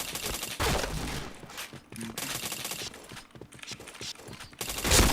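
Rapid bursts of gunfire from the Point Blank shooter game crackle close and loud in uneven volleys, mixed with mechanical weapon clicks and clatter, with no talk.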